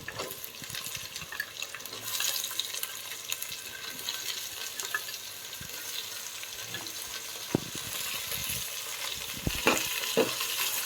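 Potato and carrot pieces frying in a pan for a Telugu home-cooked bagara rice and boti curry meal: a steady, hissing sizzle throughout, with occasional soft scraping clicks from stirring.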